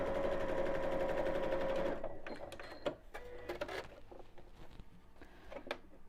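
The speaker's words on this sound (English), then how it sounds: "So I'm going to sew across the top of the bag." A sewing machine runs a quick continuous seam across the top of a bamboo-handled fabric bag, then stops, leaving soft handling clicks and rustles of the fabric.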